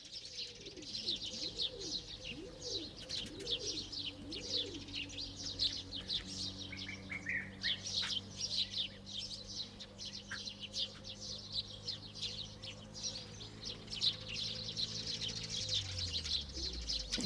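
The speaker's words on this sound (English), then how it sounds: "I'm bringing back the YouTube birds and music." Recorded birdsong plays during a live-coding stream, with steady chirps and tweets plus pigeon-like cooing, moderately faint and continuous over a low tonal music background.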